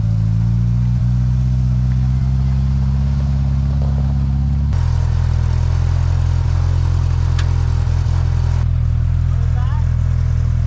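A Polaris RZR Pro R side-by-side idles with a steady low engine drone and clatter as it is eased into position, with people talking nearby.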